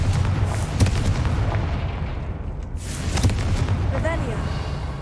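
A Confringo fire spell explodes in the video game Hogwarts Legacy. Booming bursts hit near the start and again a few seconds later over a dense, rumbling game soundscape.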